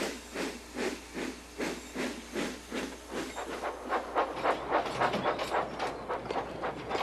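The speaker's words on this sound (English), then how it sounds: "Edward is chuffing cheerfully through the countryside." Cartoon steam locomotive chuffing along through countryside, steady rhythmic puffs of steam with hissing bursts and a faint clickety-clack, repeating evenly and close by, no voices.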